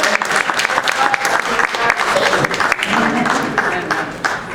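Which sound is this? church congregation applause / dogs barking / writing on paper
church congregation applause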